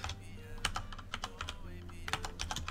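Quick, uneven clicks of typing on a computer keyboard while renaming a game, close and fairly quiet, over a soft background hum.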